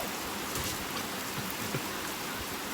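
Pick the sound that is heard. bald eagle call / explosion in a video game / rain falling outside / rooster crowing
rain falling outside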